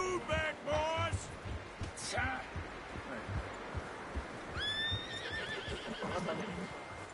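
A horse being hitched in a Red Dead Redemption 2 game scene whinnies several times, shrill neighs rising over a busy outdoor background with hoof clops and soft thumps in between.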